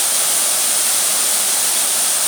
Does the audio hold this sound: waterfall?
yes